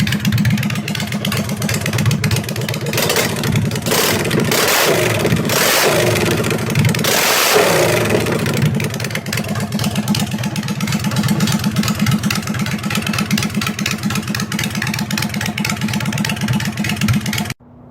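A 2007 Honda Shadow Spirit motorcycle fitted with Back Draft exhaust runs loud and close, a steady deep throbbing rumble broken by several throttle blips in the first half before it settles into a steady idle.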